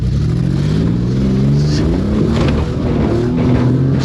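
A turbocharged Nissan R50 Pathfinder engine roars loud and close on a steep off-road hill climb, held hard under steady full throttle with the revs rising and wavering.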